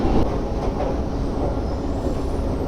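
An Istanbul metro train at Yenibosna station makes a loud, steady rumble and roar, with a continuous rail noise filling the whole stretch and no speech over it.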